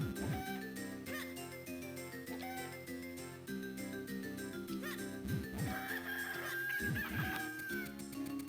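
Chickens cluck and crow repeatedly in The Minish Cap, a steady stream of close, busy calls layered over bright game music, with no talking.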